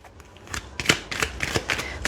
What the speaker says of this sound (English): the shuffle's gonna take a little longer